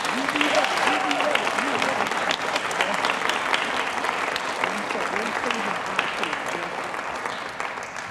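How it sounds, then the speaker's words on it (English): Sustained audience applause at a city council meeting honoring Officer Duvall, a dense, loud, even roar of many hands clapping throughout, with faint voices mixed in. "So please give him a round of applause."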